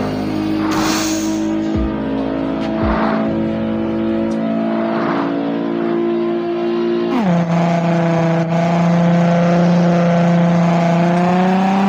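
A racing car engine in an offline Android racing game drones with a steady high whine, briefly surging with layered revs and whooshes as nitro boost kicks in, then settling into a louder, sustained roar; no talking.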